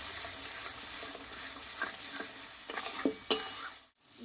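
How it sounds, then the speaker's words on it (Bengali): Spice masala of ground coriander, cumin and turmeric stirred and fried in oil for a Bengali chicken dish, giving a steady close sizzle broken by scraping stir strokes, with a few louder clatters before a brief drop to near silence. "এইবার মশলাটা আমি কিছুক্ষণ কষিয়ে নেবো ভালো করে"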